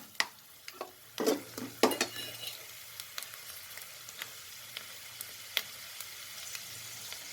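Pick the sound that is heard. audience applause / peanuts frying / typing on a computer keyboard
peanuts frying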